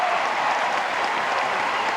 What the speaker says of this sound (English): Here was a reaction from the crowd after the seniors' go-ahead base hit.